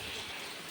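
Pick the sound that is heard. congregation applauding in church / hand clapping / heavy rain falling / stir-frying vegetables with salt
heavy rain falling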